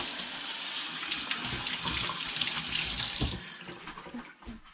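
Water runs steadily from a kitchen faucet as hands are rinsed after handling raw walleye fillets, a continuous close hiss that cuts off partway, leaving quieter drips and handling sounds.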